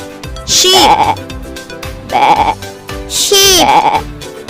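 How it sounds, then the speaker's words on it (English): A farm sheep bleats three times in a steady rhythm, each a loud, wavering baa heard up close with nothing else around it. "Sheep."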